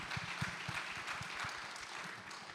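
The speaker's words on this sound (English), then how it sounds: "Round of applause." An audience claps at a Black footwear forum, a brief, faint patter of hands heard from some distance.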